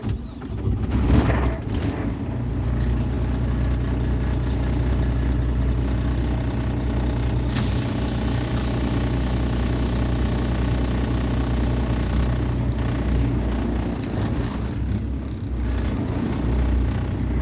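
An old, raggedy truck engine starts up and settles into a loud, steady rumbling idle that drones on unbroken for many seconds, heard nearby without talking.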